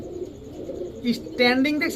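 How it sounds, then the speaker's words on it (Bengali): Aliwala pigeons, an imported-bloodline Aliwala 35 youngster among them, give soft, close cooing calls that swell in the second half, mixed with someone talking and other faint bird chirps. "এই কবুতরগুলো এই মাত্রই নিয়ে আসলাম।"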